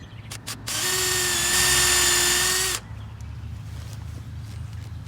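A power drill bores a hole for a deck railing post, one steady high-pitched whine lasting about two seconds, close and loud, with a few brief handling knocks before it.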